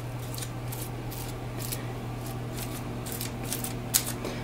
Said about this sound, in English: The noise that you're hearing is actually more the foil.